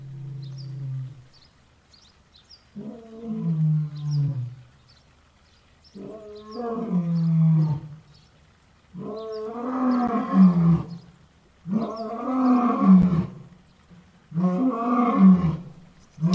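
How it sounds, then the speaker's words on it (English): A lion roars several times in a series of deep, rumbling calls, each lasting a second or two with short pauses between, loud and close. "It was a roaring lion."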